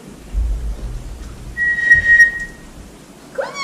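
A dog-training whistle sounds as a sit cue, a single clear steady blast of about a second at moderate distance, with low rumbling background noise and no speech.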